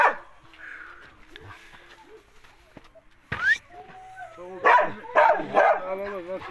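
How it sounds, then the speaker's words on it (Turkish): A female Samoyed dog whimpers and yips near the microphone, building to a burst of sharp, close barks at the end, while a person talks intermittently. "bu da kurt köpeğimiz. Samoyed."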